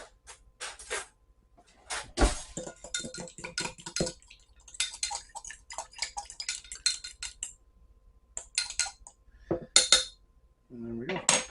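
Butter, garlic and parsley being stirred in a bowl with a utensil, giving irregular scraping clinks and taps against the dish, close and fairly clear, with quiet pauses between strokes.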